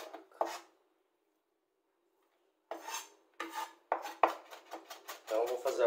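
Onion being minced with a knife on a board, bursts of quick scraping, rasping chops, a short pair at first, then a pause, then a rapid run of strokes building to steady rubbing; close and clear with no talk.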